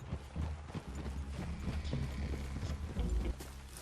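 Horse hooves clip-clop at a steady walking pace in Red Dead Redemption 2. The clear, repeated thuds stand out over a quiet outdoor background.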